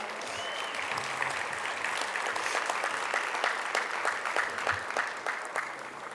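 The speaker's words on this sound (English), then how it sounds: "Let's give him one more round of applause" An audience at a sports hall of fame induction ceremony gives a steady, fairly distant round of applause, with many hands clapping evenly throughout and no talking over it.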